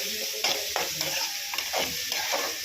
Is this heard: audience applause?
no